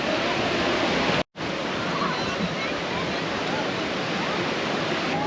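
Roaring water where the sacred Ganga river meets the Bay of Bengal at the Sagar confluence, a steady loud broadband rush like surf and wind with a brief cut near the start, continuing unbroken to the end.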